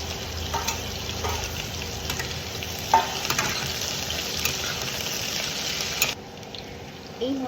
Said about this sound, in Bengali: ডুমুরটাকে দিয়ে একটু ভাজা করবো